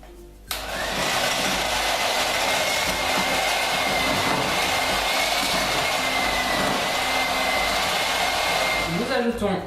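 An electric mixer whirs steadily and loudly at close range while beating pancake batter made with flour and leavening, switching on sharply at the start and running continuously for the whole stretch.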